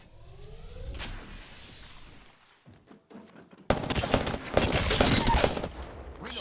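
Gunfire rings out in the video game Apex Legends: a rattling volley, a short lull with scattered shots, then a loud, dense burst of rapid automatic fire.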